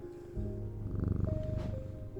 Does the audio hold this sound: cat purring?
yes